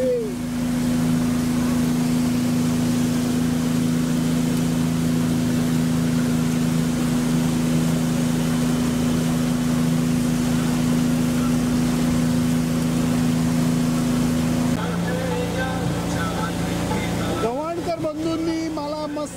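A small boat's engine drones steadily and loudly while passing close beside a large commercial ship, with a sustained hum and wash of noise that shifts and roughens near the end.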